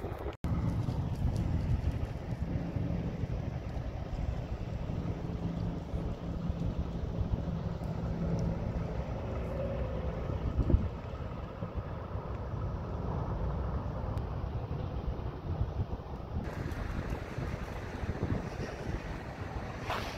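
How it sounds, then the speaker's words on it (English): Steady low rumble of idling trucks at a truck stop, a constant hum with wind noise over it throughout, no talking. "It is a little noisy just because you have the hum of the trucks"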